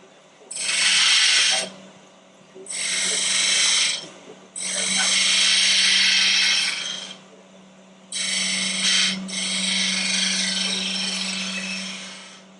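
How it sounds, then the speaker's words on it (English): A 9/16 spindle gouge cuts a wooden sphere on a lathe in repeated hissing bursts of a few seconds each, separated by short pauses, over a steady low motor hum. "This is a spindle gouge, 9/16 spindle gouge."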